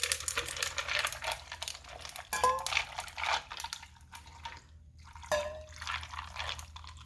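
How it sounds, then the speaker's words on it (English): Hot tea poured slowly over ice in a pitcher, with crackling ice, clinking cubes and soft trickling; quiet and close, with a few sharp pings and drips and no talk. "I filled this pitcher up with ice. And I'm just going to slowly pour this hot tea over it."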